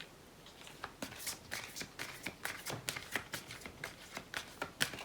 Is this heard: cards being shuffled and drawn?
yes